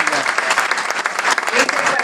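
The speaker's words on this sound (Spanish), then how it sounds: "Yo como usted le daría un aplauso al Señor." Loud, lively applause for the Lord from a church congregation, with voices calling out amid the dense clapping.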